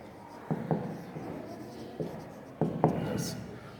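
Pen or marker writing out a given math statement on a board, in short scratchy strokes with pauses between them, faint and close, under quiet room tone with no talking.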